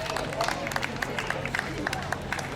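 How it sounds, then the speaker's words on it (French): A crowd at a classic-car outing applauds the mayor, a scattered patter of hand claps with light crowd murmur, moderately distant. "on applaudit Madame le maire"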